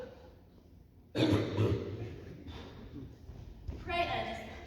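A cough or throat clearing rings out during a live school stage play of The Importance of Being Earnest, a sudden loud burst followed by further rough vocal noise, with spoken dialogue around it.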